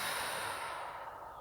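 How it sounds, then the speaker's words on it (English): One slow, deep exhale during a guided meditation, a soft, close, airy sigh that fades gradually. "Take some big slow breaths with me."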